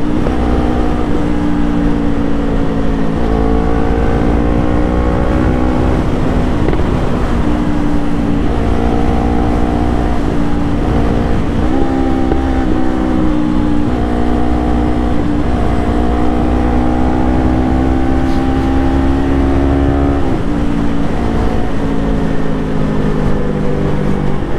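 The engine of a loaded Yamaha Aerox 155 scooter drones loudly and continuously on a ride through Panay, its pitch rising and falling in steps as the rider speeds up and shifts speed, with wind noise throughout.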